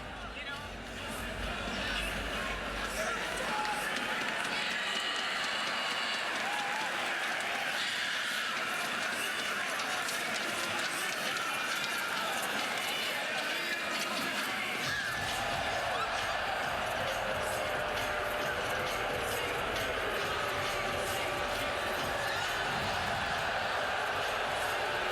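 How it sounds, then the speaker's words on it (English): Basketball arena crowd at a men's college game between Mississippi State and Georgia, a steady loud roar and murmur of many voices filling the hall throughout, with the noise swelling further about halfway through. "you can hear the crowd behind us"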